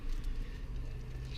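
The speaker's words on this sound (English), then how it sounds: "You'll excuse the noise outside, it's a main road" Steady low rumble of passing traffic on a main road outside, continuous and fairly loud, with no clear individual vehicles standing out.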